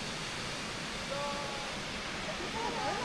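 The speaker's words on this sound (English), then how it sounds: "Look at that waterfall." A waterfall among the white villages of Spain, a steady broadband roar of falling water close by, with faint voices in the background.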